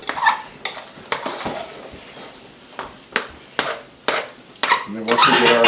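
A metal slotted spoon stirring milk into potatoes in a pot, gentle scraping strokes repeating about every half second, fairly close and clear with light sloshing and no talk.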